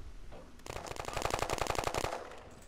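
A rapid burst of automatic machine-gun fire in the shooter game War Trigger 2, about a dozen evenly spaced shots lasting roughly a second and a half, moderately quiet, with no talk over it.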